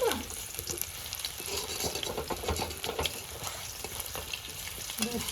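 Chicken and potatoes fry in oil until browned, a dense, even sizzle heard up close with a constant crackle and occasional stirring scrapes, with no clear talking.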